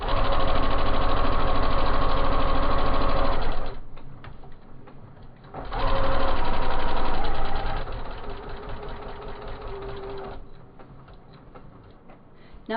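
Sewing machine quilting a baby rag-time chenille quilt, running in fast rhythmic stitching bursts that stop and restart, with quieter mechanical pauses between runs and no talking.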